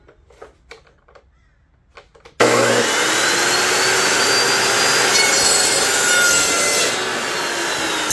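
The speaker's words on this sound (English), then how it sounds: "let's fire up the cold saw and make us a couple 10-inch pieces" A cold saw cuts metal stock into 10-inch pieces for trailer tailgate brackets. After a few quiet seconds of faint knocking, the saw starts abruptly into a loud, steady, close grinding whine that continues to the end.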